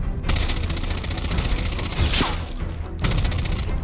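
A new weapon fires in a video game, two rapid automatic bursts of dense, loud gunfire split by a short gap, with no talk.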